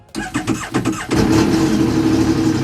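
A boat engine turns over and catches, then settles into a steady, loud idle after a short cranking sequence.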